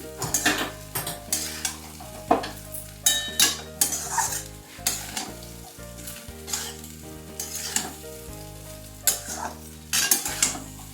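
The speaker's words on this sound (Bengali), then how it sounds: "দিয়ে খুব ভালো করে একটু নেড়ে নিচ্ছি" Jeera rice with sugar being stirred in a hot pan: repeated scraping and clinking strokes of a spoon against metal over a soft sizzle, in an irregular rhythm, close and clear with no talking.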